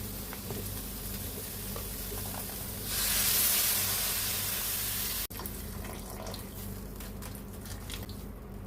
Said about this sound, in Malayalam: ജസ്റ്റ് ഒന്ന് ഇളക്കി കൊടുത്തിട്ട് തേങ്ങയുടെ 2ാം പാൽ ഒഴിച്ചു കൊടുക്കാം